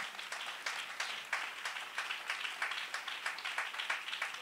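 Congregation clapping together during a church service, a dense steady patter of many hands with small rhythmic surges, moderately loud and sustained throughout with no talking.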